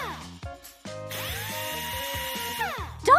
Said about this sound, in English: I have to drill holes.